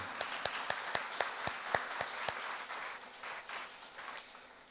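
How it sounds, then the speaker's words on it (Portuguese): An audience at a Spiritist public lecture applauds a guest musician, starting with a run of distinct, evenly spaced sharp claps that blend into softer, fading group applause. "Uma salva de palmas para ela também."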